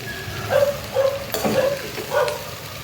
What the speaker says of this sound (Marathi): आता ह्याच्यामध्ये पोहे घालूया आणि मिक्स करून घेऊया